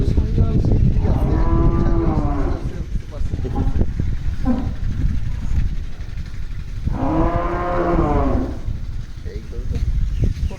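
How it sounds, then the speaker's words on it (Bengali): Dairy cows, Friesian-Jersey crosses and Sahiwal-Sindhi, on a milking farm in Panchagarh let out two long, loud moos over a noisy background, with people talking in between. "এগুলো সব মিল্কিং কাউ।"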